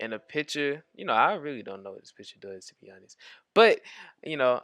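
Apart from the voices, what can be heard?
None of the usual background noises is heard.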